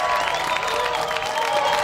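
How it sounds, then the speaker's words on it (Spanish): A burst of applause and cheering plays as a sound effect in a TV studio, with dense crowd clapping that stays loud and even for about two seconds. "poné aplausos"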